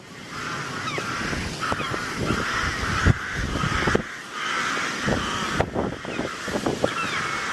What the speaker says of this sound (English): Crows say never, or ever, never, ever.